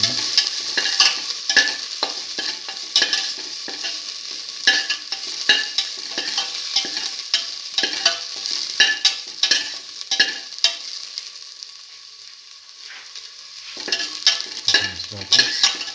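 Ginger, salt and coriander sizzle in a frying pan as they are sautéed. Quick spatula scrapes and taps come close and fairly loud, with a short lull before the stirring picks up again.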